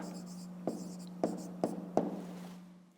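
Pen strokes on paper while writing answers to a fifth-grade maths exercise, four short distinct scratches at a steady pace over a quiet, low background hum.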